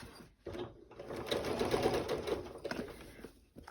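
A sewing machine runs close by, stitching fabric and gathered elastic for a basket's pockets in one steady whirring burst of a couple of seconds, with short quiet pauses before and after.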